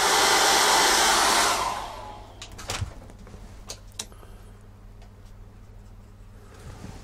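A hair dryer blows loud and close for nearly two seconds while drying paint on a cat's eye painting, then shuts off, leaving faint taps and small clicks from handling in a quiet room.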